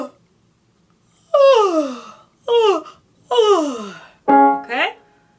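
Several open-throated yawns during a singing warm-up, each a sighing, descending vocal moan, four or five in a row separated by short pauses, close and fairly loud.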